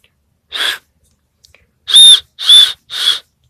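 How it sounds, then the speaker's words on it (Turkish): Four short, shrill blasts from a whistle built into a multi-function camp spoon, one alone followed after a pause by three in quick succession, close and loud with nothing else around them. "Şuraya üfleyince düdük çalıyor"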